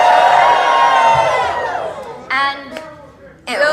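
A convention crowd at Bronycon 2018 cheers and whoops loudly, the roar fading after a couple of seconds and then bursting up again in short shrieking waves of shouting.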